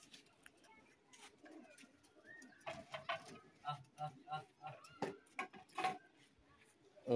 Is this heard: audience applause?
no